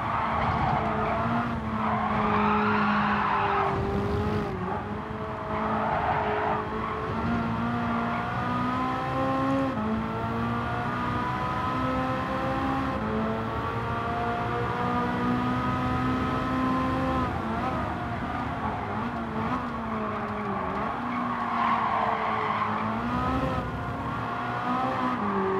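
Ferrari race car in Gran Turismo 7 on PS5, its engine howling continuously with rising and falling revs through gear changes and tire squeal on corners, loud and steady throughout with no talking.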